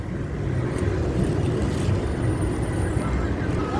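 Steady road traffic on a street during a national day off in Saudi Arabia, with cars passing continuously at moderate loudness and a dense, even roar with no break.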